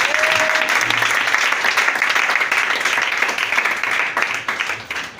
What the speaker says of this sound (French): Est-ce que tu peux l'acclamer un peu?